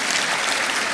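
A church congregation in Makassar claps together in a dense, steady wash of applause that fills the whole short moment with no gaps.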